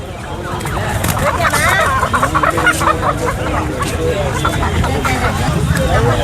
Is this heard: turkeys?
yes